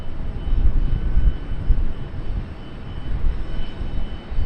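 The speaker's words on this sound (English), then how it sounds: "Triple seven is next to depart as well." A Boeing 777 departing Charlotte Douglas International Airport produces a loud, low jet rumble that surges and eases in waves without a break, with no talking.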